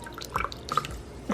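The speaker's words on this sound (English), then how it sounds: "so push down the French press. Pour it in." Coffee poured from a French press gives a few irregular, light splashes and drips, close by and soft.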